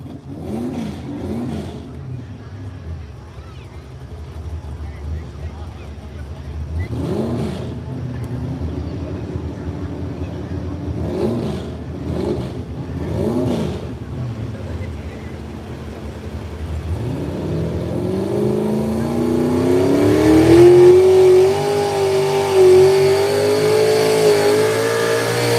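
Pulling tractor at a truck and tractor pull run at full throttle: an engine roar builds and climbs steadily in pitch over the last stretch, after repeated swelling passes and an announcer talking over it.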